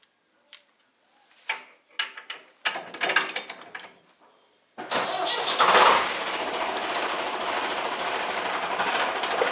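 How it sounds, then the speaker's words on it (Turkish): A trailer's metal chain clanks, rattles and knocks in short bursts as it is attached, then a steady tractor rumble and hiss take over, fairly close. "römorkun zincirini takacağım."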